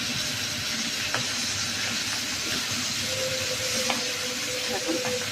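Taro (kochu) fries in a pan with green chillies, a constant close sizzle and hiss broken by a few small crackles and pops, with no talking.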